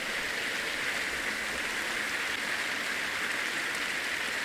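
A church congregation cheers and applauds at a sermon, a dense, unbroken wash of clapping and crowd noise that holds steady throughout.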